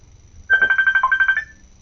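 Phone ringtone ringing: a single short electronic trill of rapid repeated tones lasting about one second, clear and close over a quiet background.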